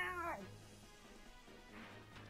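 In Fire Emblem: Path of Radiance, a cat lets out one short, sharp yowl at the very start, followed by quiet game background sound.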